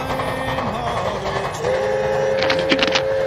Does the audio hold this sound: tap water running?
no